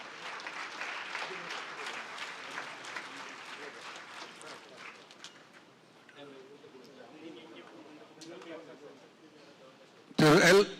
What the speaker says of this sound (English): A huge applause, please.